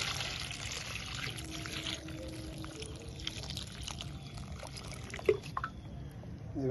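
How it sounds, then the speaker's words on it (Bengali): Water is poured gently onto plant soil in a pot, a soft, quiet trickle and splash running low under faint background noise, with a few small knocks near the end. "এইভাবে জল দিয়ে দেবেন।"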